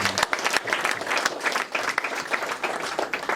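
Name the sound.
congregation applauding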